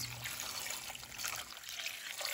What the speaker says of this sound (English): now we pour over our